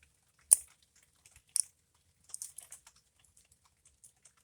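Sparse, quiet clicks and soft taps from a CompoForm Triquetra fidget toy, a few sharper snaps early on followed by a light scattered run of small clicks, close and alone.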